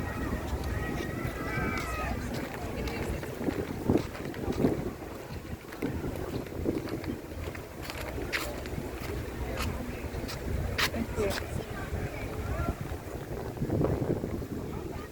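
Strong, cold wind buffets the microphone in continuous gusts near the water on a Bahamas island, with a voice speaking briefly underneath.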